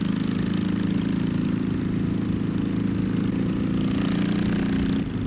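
Loud vehicle exhaust with the engine idling on a forest trail, a steady deep rumbling drone that holds constant and close throughout, with no talk.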